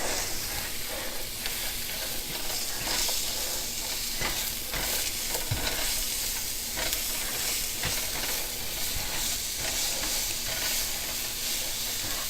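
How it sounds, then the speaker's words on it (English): Spinach sautéing in a pan, a steady close sizzle and hiss of leaves wilting, with occasional stirring clicks and scrapes throughout and no voices. "when you are sauteing the spinach, it only takes a few minutes for the spinach to wilt"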